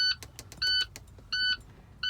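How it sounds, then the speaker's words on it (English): A high electronic buzzer beeps in short repeated bursts at uneven intervals as service brakes are pumped, with faint clicks and a low truck engine rumble beneath. "the buzzer is beeping"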